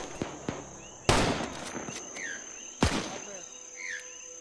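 Rockets striking in Arma 3 during a Zeus PvP operation, two sharp loud blasts about two seconds apart over faint background noise and small distant pops.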